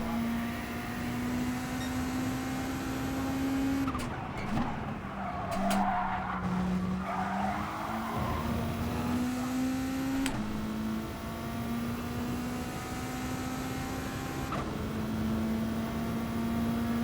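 A race car in Gran Turismo Sport lapping a British circuit, its engine note holding steady and rising through gear shifts for the whole stretch, with bursts of tire skidding through a corner midway.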